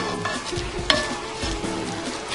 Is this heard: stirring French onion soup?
yes